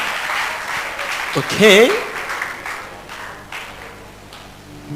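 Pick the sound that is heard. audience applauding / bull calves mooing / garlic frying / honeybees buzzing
audience applauding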